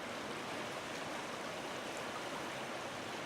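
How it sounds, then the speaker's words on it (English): Beaver Creek in Ohio runs high and fast after a day of rain, its water rushing in a steady, close, full-bodied roar with no voices over it. "the creek is really flowing"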